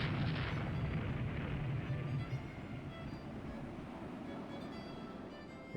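Deep, muffled explosion rumble from a naval battle in the warship game Rule The Waves 2, with a heavier boom at the start fading into a low, continuous roll, faint and distant.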